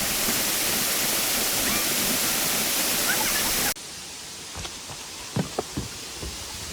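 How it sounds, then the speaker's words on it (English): A waterfall in Bali roars as a loud, dense rush of falling water, then cuts abruptly to a quieter scene of distant flowing water with a few sharp knocks and taps. "So this is our second waterfall"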